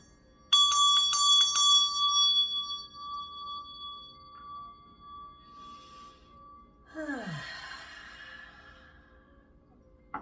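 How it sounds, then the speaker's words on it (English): A small hand bell rung several quick times to clear the space in a spiritual session, bright strikes followed by a long ringing decay, then a soft breathy exhale. "because I'm going to ring my bell"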